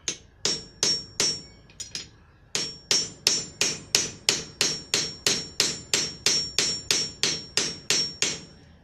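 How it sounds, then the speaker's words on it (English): Hammer setting a rivet on a horseshoe keyring hook rack, with a few uneven blows then a long steady series of about twenty sharp metallic strikes in even rhythm, close and clear with no talk. "finish setting the rivet"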